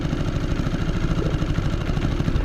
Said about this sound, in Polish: daję mu troszkę gazu